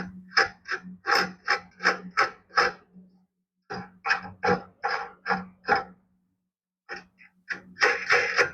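A half-inch bolt is being fitted as a pump-handle holder on an aircraft jack stand, with rhythmic ratcheting strokes in quick bursts of five to seven, separated by short pauses, close and fairly loud.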